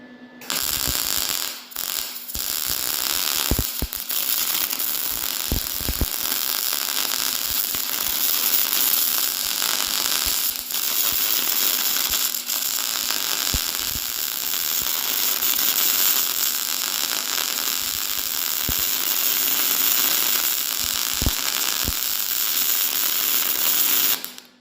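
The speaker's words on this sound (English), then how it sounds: "So let's just get welding here and see how it turns out." Steel being welded onto a homemade snow plow for a Yamaha Big Bear ATV: a steady, loud broadband crackle and hiss runs almost unbroken for the whole stretch, with brief pauses and sharp pops, and no talking.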